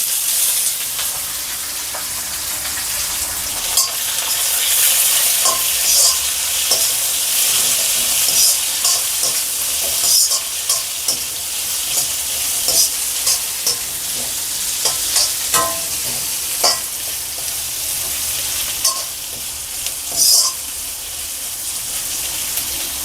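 Sliced onions fry in a pan with green chilies and curry leaves for tomato rice, giving a steady close sizzle broken by frequent scraping clicks of a stirring spoon.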